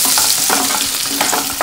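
Curry leaves crackle and sizzle in hot oil while frying for a stuffed brinjal masala curry, a steady close hiss broken by a few sharper bursts of spitting as the leaves are stirred.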